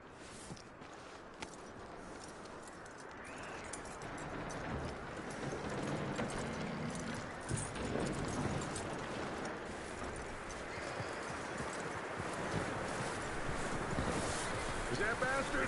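Horse hooves clip-clopping in the video game Red Dead Redemption 2, a faint steady gait under wind and outdoor ambience, with voices talking intermittently.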